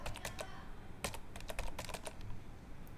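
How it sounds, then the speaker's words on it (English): A computer keyboard clicks out a command in quick bursts of keystrokes, close up and quiet, with short pauses between clusters of keys. "then we need to type the next command"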